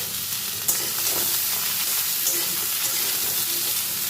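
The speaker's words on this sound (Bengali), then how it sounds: "এবার এর মধ্যে বাদবাকি সবজি, পটল ও কাঁঠালের আঁটিটা অ্যাড করে দেব।" Pointed gourd and jackfruit seeds added to hot oil with potatoes for a Bengali vegetable dish, frying with a loud, dense, continuous sizzle close up and a few faint stirring knocks.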